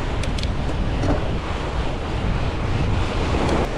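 Waves surge onto a beach on a fat bike ride along packed sand, with a steady roar of surf. Constant wind buffets the microphone throughout.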